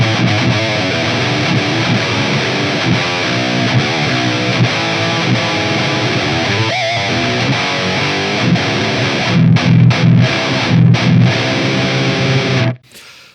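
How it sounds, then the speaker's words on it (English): Heavily distorted, scooped electric guitar through a Rectifier high-gain tube amp chugging loud and continuous, with thick low end and a few choppy palm-muted stops before cutting off abruptly. "So that is the typical sound of the rectifier, right? Very scooped, very aggressive distortion, fat low end"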